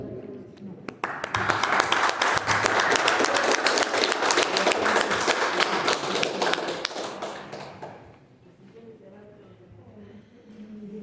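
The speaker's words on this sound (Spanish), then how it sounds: "la recibimos con un fuerte aplauso" A room full of people at a seminar on death studies breaks into loud, sustained applause that lasts several seconds before fading out to quiet murmuring.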